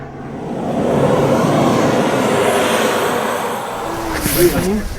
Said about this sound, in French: L'avion approche.